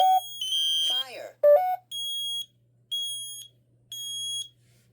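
Smoke alarm under system test gives loud, piercing electronic beeps in a steady repeating pattern, three long tones after a few short chirps and a brief synthetic voice, in a quiet room.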